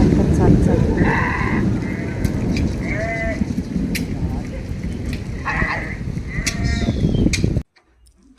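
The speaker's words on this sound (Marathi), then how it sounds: "मेंढपाळ बांधवांचं एकीकडून दुसरीकडे आपल्या मेंढ्यांचे स्थलांतर चालू आहे" Sheep bleat repeatedly in a loud, close flock as shepherds move them from place to place, their calls rising over a dense bed of rustling and hoof noise before the sound cuts off abruptly.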